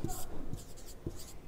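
Pen or chalk writing out numbers for a class 6 fractions lesson, with short scratchy strokes close by under a teacher's speech.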